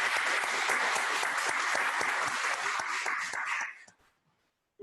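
A church congregation at a Sunday service applauding to send off a departing member, steady dense clapping for several seconds that stops abruptly into silence.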